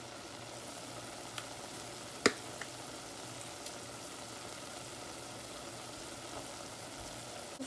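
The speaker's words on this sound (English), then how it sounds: "When you put the shrimp in, you stir for about 3 minutes." Shrimp seasoned with salt, MSG and black pepper fries and is stirred in a pan, making a soft, steady sizzling hiss with one sharp clack partway through. No one speaks.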